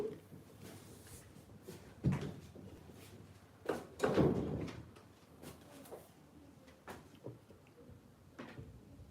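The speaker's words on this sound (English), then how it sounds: "Shut the door properly." A door pushed shut indoors before a live sewing lesson, heard as a few muffled knocks and bumps over low room noise, with no clear slam.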